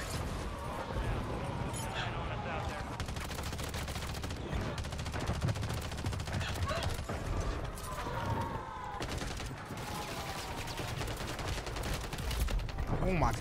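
Sustained BAL 27 rifle fire in Warzone on Rebirth Island, with dense rapid automatic bursts rattling almost continuously, mixed with other game noise and a player talking over it.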